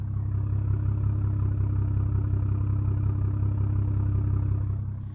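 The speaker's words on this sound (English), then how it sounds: "if you're curious to what it sounds like at idle speed," A BMW 535i fitted with a full exhaust idles close by, a deep, steady low rumble with an even rhythmic pulse that fades slightly at the very end.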